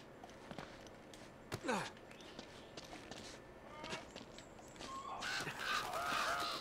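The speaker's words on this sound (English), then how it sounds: "Some scary birds." Birds caw in the video game Uncharted: Drake's Fortune, a few harsh calls standing out against ambient jungle noise and footsteps, with faint talking.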